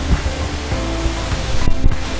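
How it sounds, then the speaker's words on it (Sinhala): Aberdeen Falls at Ginigathhena in Sri Lanka roars as a loud, steady broadband rush of falling water, close and continuous, with no voices heard. "ඒ දහලන්නේ"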